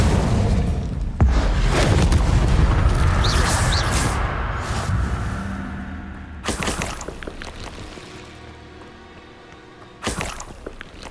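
An Incendio fire spell cast in Hogwarts Legacy, a loud whooshing burst of flame that roars and fades over several seconds, followed by further sharp magical impacts and bursts.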